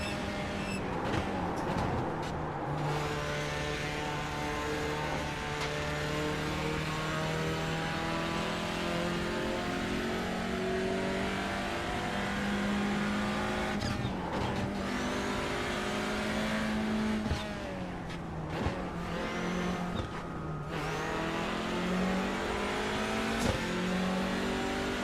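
A race car engine revs and drones continuously in the sim racing games Le Mans Ultimate or iRacing, pitch rising and falling through gear shifts, loud and close throughout.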